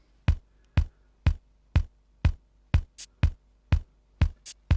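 Drum machine samples from a Circuit Rhythm: a steady run of punchy kick drum hits about every half second, with a couple of short bright shaker hits slipped between them, dry and close with no voices.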